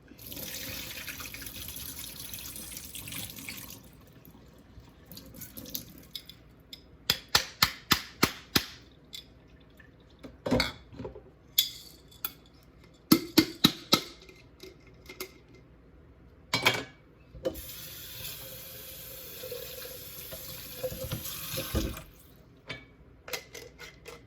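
Sprouting seeds swirled and rinsed with water in a container, running tap water in bursts with sharp clinks and rattles of the container, close and fairly quiet.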